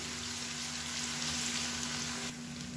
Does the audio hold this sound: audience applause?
no